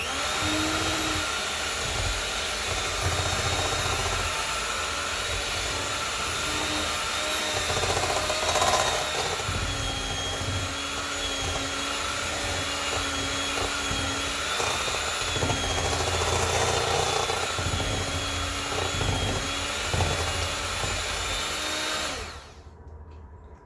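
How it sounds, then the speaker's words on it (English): An electric hand mixer whirs steadily through mashed sweet potato for a sweet potato pie, a continuous buzzing motor with scraping against the bowl, close and unbroken, cutting off abruptly at the end. "I'm going to use my hand mixer to get the strings out"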